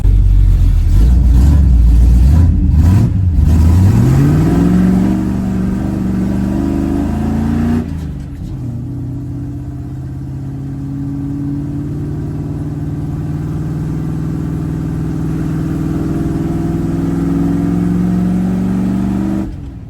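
A 1974 Dodge W100 pickup with a swapped-in 383 big block V8 drives by at full volume. The engine revs hard off the line, shifts and then settles into a steady, loud cruising drone, with no talking.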